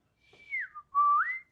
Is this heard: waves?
no